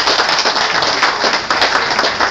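Dense, sustained applause from an audience at a Trinidad & Tobago Independence Day event, honouring the Consul General; steady, loud clapping fills the whole stretch with no pauses.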